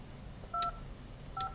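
Two short dual-tone keypad beeps from a telephone, spaced about a second apart, as a voicemail password is entered; faint background hiss, no voices.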